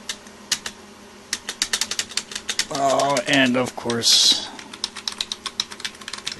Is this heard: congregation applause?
no